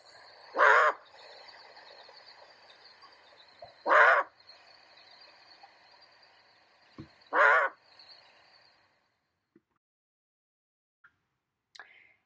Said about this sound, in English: the mother was making her alarm call, called a bark, which sounded like this.